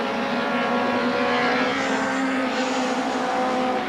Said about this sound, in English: Goodwood corner, and Cleland is attacking.